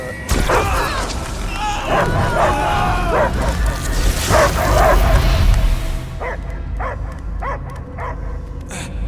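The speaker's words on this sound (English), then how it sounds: "I hear only barking" A dog barks and yips repeatedly amid loud, busy game-like noise and rumbling, with sharper isolated barks near the end, in Marvel's Guardians of the Galaxy.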